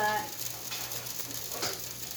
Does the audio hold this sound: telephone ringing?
no